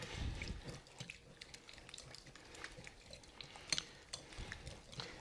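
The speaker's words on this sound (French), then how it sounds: "On va fouetter tout ça." Lemon juice mixture is whisked in a large bowl, a quiet, close series of wet scraping and clinking strokes with occasional sharper taps against the bowl.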